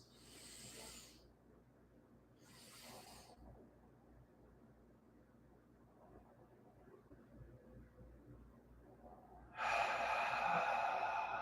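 Breathing exercise: two short, sharp breaths are drawn in through the nose early on, and a longer, louder nasal inhale follows near the end, each breathy and close over a quiet, hushed background.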